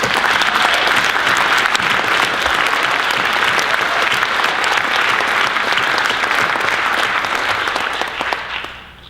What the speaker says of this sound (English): All of you deserve a warm round of applause for all your efforts to stand up